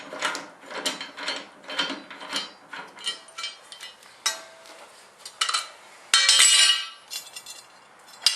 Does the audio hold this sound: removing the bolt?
yes